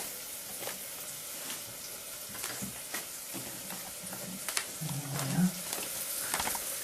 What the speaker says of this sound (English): Keep stirring. You mustn't let your onion brown. You must just keep stirring it.